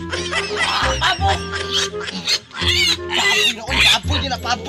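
Pigs grunt and squeal repeatedly up close, rough overlapping oinks in bursts, with some people talking nearby.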